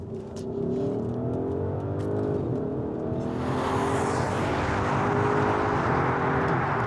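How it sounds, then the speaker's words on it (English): A 2024 Audi SQ7 with a twin-turbo petrol V8 accelerates hard in dynamic mode, its engine note rising steadily and loudly for several seconds, heard from inside the cabin. "driving the Audi SQ7"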